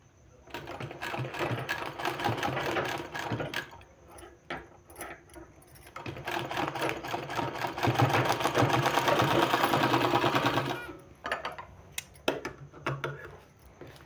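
A sewing machine stitching a sleeve design, running in bursts with brief pauses and a longer steady run, close and mechanical with ticking rattles, ending in scattered clicks.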